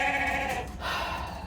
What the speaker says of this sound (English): You hear those sheep?